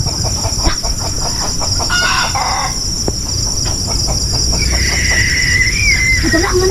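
Chickens cluck and crow amid steady outdoor background noise, with a sustained squealing tone near the end.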